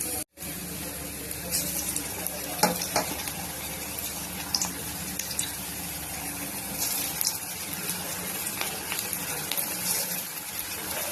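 Pakoras (bhajiya) deep-fry in hot oil in an iron kadhai, giving a continuous dense sizzling hiss with fine crackles. No one speaks.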